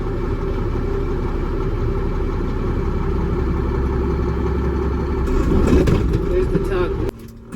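Class A truck tractor's diesel engine idling steadily during a pre-trip air brake tug test, a continuous mid-low rumble that swells slightly near the end before cutting away abruptly.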